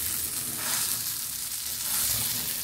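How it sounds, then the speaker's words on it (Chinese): A chicken cutlet pan-fries slowly over low heat, its skin crisping as the fat renders out, giving a steady, close frying sizzle that runs unbroken throughout. "教翻細細火去慢慢煎佢嚇"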